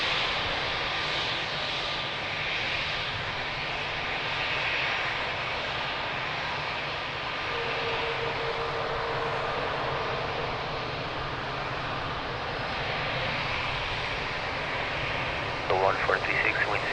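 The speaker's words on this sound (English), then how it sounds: "beautiful landing, nice touchdown." Jet airliner touching down on the runway at Lisbon Airport, a steady, broad engine roar sustained throughout at moderate distance, with a brief clatter near the end and a voice talking faintly beneath.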